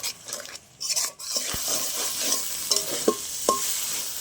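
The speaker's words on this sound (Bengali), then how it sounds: "এবার এই মিশ্রণটা মশলার মধ্যে দিয়ে দেবো ভালো করে কষিয়ে নেব মশলাগুলো" A spice paste for kalbose fish curry is stirred and fried in an oil-filled pan, giving a steady sizzle with repeated scraping and clinking of the spoon against the metal, close and with no talk.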